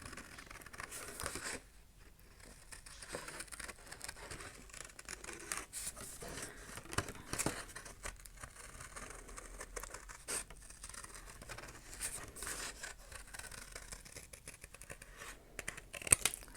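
Scissors snipping around the edges of a heavily patterned paper napkin, with soft, quiet crinkling and irregular cuts close by and no talking.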